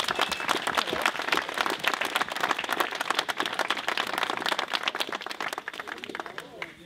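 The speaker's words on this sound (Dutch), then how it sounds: "Een enorm applaus voor deze mensen lijkt me zeer zeker op de plaats." Audience applause at a village event in the Netherlands, dense clapping from a crowd filling the space steadily for several seconds before thinning toward the end.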